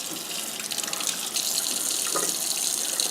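Hot water runs steadily from a tap into a bucket, a continuous close splashing stream that builds slightly louder partway through, with no talking.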